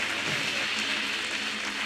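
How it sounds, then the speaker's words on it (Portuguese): A church congregation applauds together during a morning service, a dense and even wash of clapping that holds steady throughout, heard from the middle distance and moderately loud with no voice over it. "aplaude o Senhor nesta manhã"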